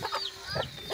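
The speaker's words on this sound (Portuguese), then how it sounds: "Essa aqui é a galinha barraqueira." A quarrelsome backyard hen clucks in a few quick, close bursts, with a thin high chirp drawn out in the background.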